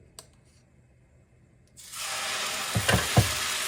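Batter is poured onto a hot iron griddle greased with cow ghee, and a loud sizzle starts abruptly partway through. It settles into a steady close hiss with a few sharper crackling bursts, with no talking.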